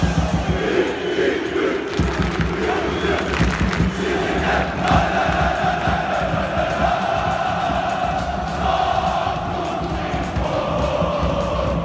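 Samsunspor football fans chant and roar together in stadium stands at an away match, a dense, continuous crowd wall of voices with rhythmic thumps throughout.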